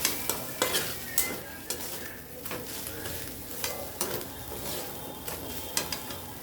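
Ground spices, red chili powder and garam masala, are stirred into a fish mixture in a pan, with repeated scraping strokes and soft clinks of a spatula over a low sizzle, the strokes coming at irregular intervals.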